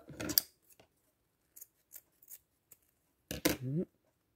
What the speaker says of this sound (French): Ici, je coupe.